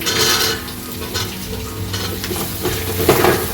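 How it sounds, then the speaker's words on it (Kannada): Chopped carrots and beans hit a hot pan for a vegetable biryani and start frying, a loud close sizzle mixed with scraping stirs and occasional clinks of utensil on metal. "ಇವಾಗ ತರಕಾರಿಗಳನ್ನು ಹಾಕೊಳ್ತಾ ಇದ್ದೀನಿ"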